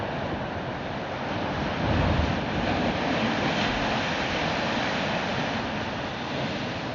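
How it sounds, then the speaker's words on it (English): Continuous roar of surf with waves washing onto a sandy shore in São Tomé and Príncipe, a broad steady rush that swells slightly midway, with no voices. "the relentless surge of waves etching a white line along the shore"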